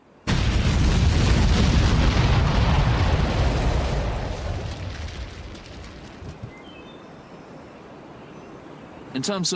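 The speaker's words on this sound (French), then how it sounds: "Les barbelés sont en partie noircis par la fumée que l'explosion a dégagée" An artillery shell explodes on ground impact near barbed wire at a Somme battle centenary at Thiepval. One loud, sudden boom rumbles and slowly fades over several seconds, with a few sharp sounds near the end.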